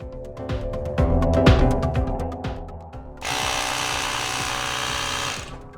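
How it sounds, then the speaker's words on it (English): An electric pump inflates a new rear inner tube for a Razor Rambler 16, giving a close, buzzing motor whir with a rhythmic pulse that settles into a steadier, brighter hum partway through. "Let's go ahead and put some air in our tube so that way it holds shape when reinstalling into the tire."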